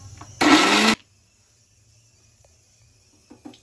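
A mixer grinder blends ginger chutney with roasted ginger, chilli and tamarind, one loud whirring burst of about half a second, followed by near silence and a few faint kitchen clicks.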